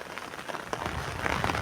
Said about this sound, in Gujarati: જો હવે થોડોક વરસાદ ઓછો પડ્યો